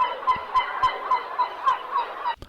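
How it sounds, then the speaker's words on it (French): Gull calls sampled into a music beat: a run of about eight honking squawks repeating in a loose, slightly uneven rhythm, loud and close, ending with a short percussive hit. "ici, j'ai mis les mouettes"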